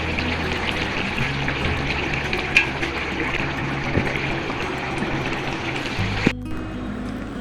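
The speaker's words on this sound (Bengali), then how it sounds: "ভুঁড়িটা সেদ্ধ হওয়ার জন্য 2 কাপ পরিমাণ পানি দিয়ে দিলাম।" Water is poured into a pot of beef tripe set to boil, a steady rushing trickle that runs for about six seconds before cutting off abruptly.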